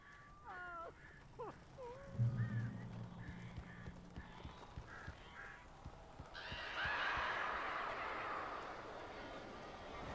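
Bird calls in the Alan Wake video game: a few short chirping, squawking cries near the start, then a broad rushing, fluttering noise swelling in the second half, with low tones and scattered clicks around them.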